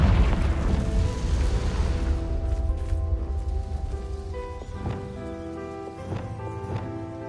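A Confringo fire spell bursting in Hogwarts Legacy, a loud booming explosion that rolls away over a few seconds into a crackling, ringing tail with faint magical shimmering tones.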